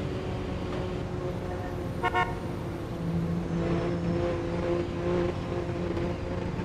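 A short car horn toot sounds once amid steady street and engine noise in the game Midnight Racing: Tokyo, followed by vehicle rumble passing nearby.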